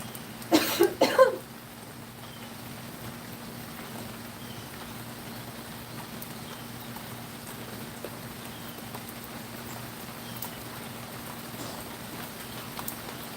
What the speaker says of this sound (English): Give me a second, I have to cough.